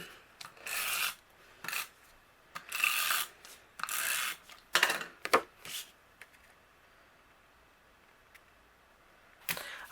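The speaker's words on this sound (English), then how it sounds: "I'm going to take this panel and I'm going to put it directly in the front of my card base. And I will just use my tape runner for that." A tape runner lays adhesive along a card panel for a card base, giving a series of short raspy rubbing strokes, several in quick bursts then a pause and one final stroke, close and fairly quiet with no talking.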